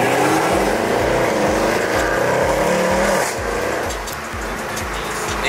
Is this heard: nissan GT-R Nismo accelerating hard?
yes